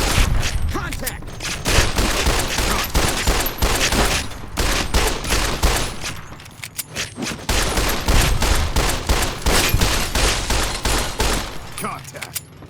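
Dense, sustained gunfire in Fallout New Vegas: rapid bursts and overlapping shots fill the whole stretch with only a brief lull, alongside other battle noise.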